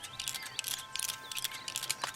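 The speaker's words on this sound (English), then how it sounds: "get a Colt and just calmly roll that cylinder in your fingers. Fuck Buddha, this clicking noise is all you will ever need" A Colt revolver cylinder in a video game rolls with quick, crisp ratcheting clicks, close and fairly quiet, ticking in an uneven rapid run.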